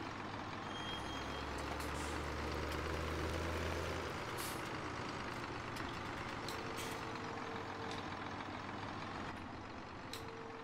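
A tractor engine in Farming Simulator 2017 drones steadily at close range and keeps a constant low hum throughout. Beeps and hissing mechanical noises sound over it, and no one speaks.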